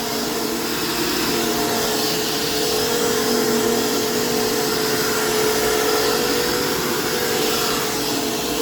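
Dirt Devil 12 amp Jaguar vacuum cleaner with strong airflow running steadily, a loud, constant motor whine and rush of air with no talk.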